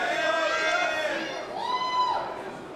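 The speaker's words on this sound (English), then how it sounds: "You can hear kind of a split crowd here in terms of their support." Split crowd at a GWF wrestling show, dueling chants rising and falling in drawn-out tones, loud and continuous through the arena.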